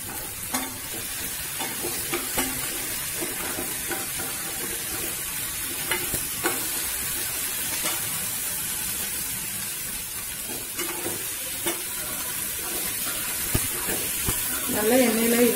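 Onions and tomatoes fry in gingelly oil for mutton kuzhambu with a steady, close sizzle and hiss, broken by occasional stirring scrapes.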